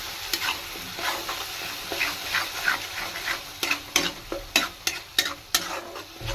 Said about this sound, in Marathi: याला छानपैकी परतून घेऊया.